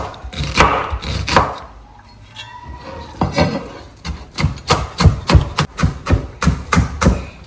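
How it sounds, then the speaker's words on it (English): Onions being chopped with a knife on a board while making Ghanaian peanut soup: a burst of loud close chops, a pause, then a steady run of quick, evenly spaced knife strikes. "Chop onions on your beef brings a lot of flavor to your beef."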